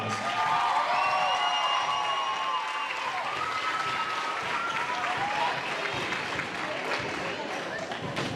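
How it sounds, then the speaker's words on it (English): Applause from the crowd in a gym at a volleyball championship awards ceremony, sustained clapping with some cheering and squeaky shoe sounds, loud and close throughout, with voices faintly underneath. "How about a round of applause?"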